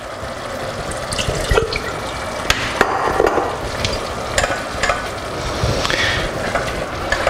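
A tomato and onion sauce for fish lasagna bubbles steadily in a pan, a constant close simmering hiss broken by occasional sharper clinks and pops.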